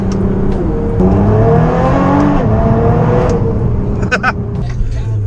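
A Nissan R35 GT-R being driven after transmission repair, the engine note droning and rising steadily from inside the car, with a few light clicks and knocks.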